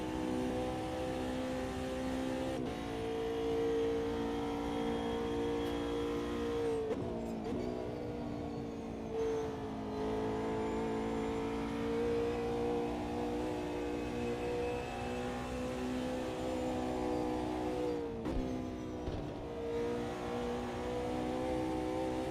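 McLaren race car in the Automobilista 2 sim racing game, a steady, droning engine note held at high revs for over twenty seconds, with a few brief lifts and gear shifts around seven and eighteen seconds, heard alone without talk.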